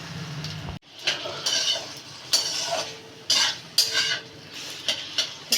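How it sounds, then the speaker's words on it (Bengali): Cauliflower stalks fry with mustard-chilli masala in a pan, with a soft sizzle under repeated loud spoon scrapes and clinks against the metal, close up, with no speech. "মশলাটাকে একটু এই ডাটার সঙ্গে ভেজে নিতে হবে"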